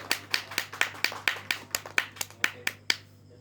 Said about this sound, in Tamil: அவருக்கு ஒரு கரகோஷம் இருக்கு